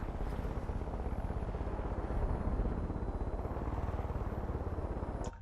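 Helicopter rotor and engine noise from the video game Far Cry 5, a steady, loud, thick droning hum with rapid low chopping that holds evenly for the whole stretch, with no voices.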